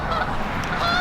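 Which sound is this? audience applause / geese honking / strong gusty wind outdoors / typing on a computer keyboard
geese honking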